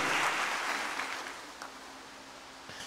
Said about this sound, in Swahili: ungempigia Bwana makofi mengi ya shangwe